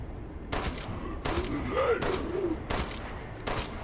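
Gunfire in the Resident Evil Shadows of Rose video game, several loud separate shots in broken rhythm over steady game ambience, with faint voice-like creature sounds between them.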